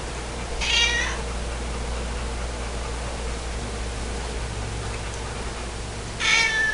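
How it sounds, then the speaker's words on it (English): A new kitten meowing on its first night in the house: two short, high meows, one near the start and one at the end, separated by a long stretch of quiet room hiss. "You go tell Chase there's a new kitten in the house."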